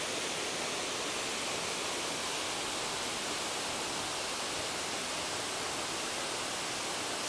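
A hidden waterfall on the Appalachian Trail roars in a continuous, even rush of falling water, close and unbroken, with no voices.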